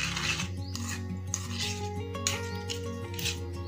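A spoon stirring peanut powder into yogurt chutney in a bowl, giving faint scraping and clinking strokes in a quick repeating rhythm at close range over a steady low hum.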